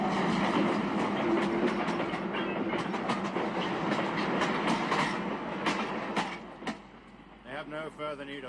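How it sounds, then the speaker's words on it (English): A train rolls along the rails with a steady rhythmic clickety-clack, fairly close and continuous, fading near the end as other sounds take over. "Back on the train!"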